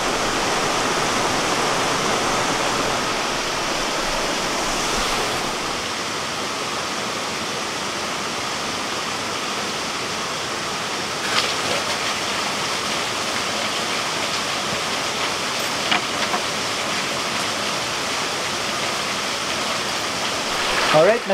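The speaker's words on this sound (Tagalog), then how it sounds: "narating na rin natin itong Mornang Hotspring and Waterfalls" Steady, loud rushing roar of the waterfall at Mornang Hot Spring in Barlig, Mountain Province, a continuous broadband wash of falling water heard up close with no other sounds breaking through.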